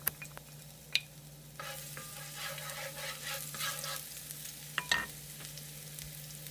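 Garlic and ginger stir-frying in a hot pan over medium-high heat, a steady sizzle with scraping stirs and a few sharp clinks of the utensil against the pan.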